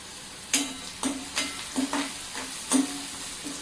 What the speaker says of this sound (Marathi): कांदा परतून झाल्यानंतर हळद टाकायची म्हणजे मग ती तेलात जळत नाही.